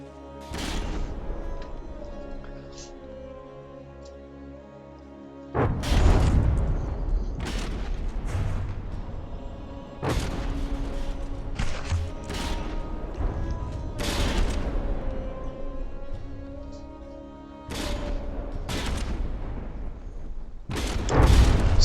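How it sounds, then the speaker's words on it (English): Heavy naval artillery booms and broadside salvos from a dreadnought battle in a video game, loud repeated blasts at irregular intervals over a constant rumbling engine and sea drone. "it's actually very difficult to say who is winning the artillery duel"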